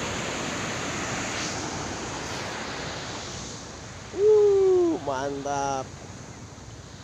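Steady, moderately quiet surf washes on Ciletuh beach in Ciletuh Geopark on a morning, a continuous soft roar. Someone briefly speaks near the end.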